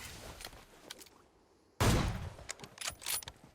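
After a quiet stretch, a sudden loud burst of gunfire erupts in PUBG Mobile, followed by several more rapid shots fading in and out.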